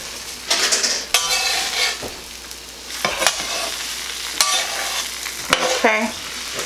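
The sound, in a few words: eggs frying in grease on a griddle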